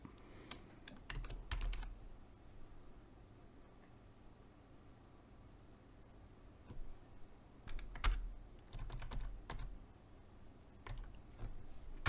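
Steady typing on a computer keyboard while writing trading code, a run of quick close clicks in uneven bursts over a low hiss, with no talking.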